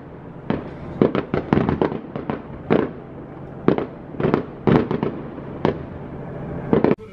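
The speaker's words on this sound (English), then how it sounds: "We're literally watching the fireworks as we're unpacking." Epcot fireworks bursting at a distance: a series of sharp booms and crackles in irregular clusters, with short pauses between volleys.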